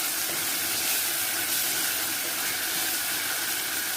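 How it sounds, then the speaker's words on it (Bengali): Dried icha shrimp fry in a hot pan, giving a steady, dense sizzling hiss that holds evenly throughout without pause. "ইসা শুটকি দেওয়ার পর আমি আরেকটু ভেজে নেব 2 মিনিট"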